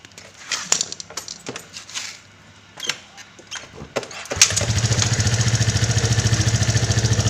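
A Suzuki Skydrive scooter engine cranks and catches, settling into a loud, steady idle with a fast even rhythm after a few seconds of clicks and handling noises.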